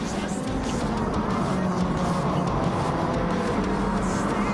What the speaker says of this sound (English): Oh, that car sounds so good.